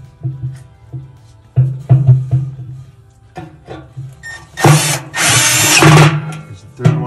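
A power drill drives screws into a Frigidaire gas dryer during a rear bearing repair, its motor whirring in several short close bursts, then one long sustained run near the end.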